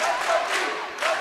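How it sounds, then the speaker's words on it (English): Crowd noise at a high school volleyball sectional match, a brief burst of loud, lively cheering and shouting from the stands, with voices rising and falling over about a second. "You hear the crowd in the background."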